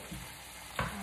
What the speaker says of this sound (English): Let's stir this around.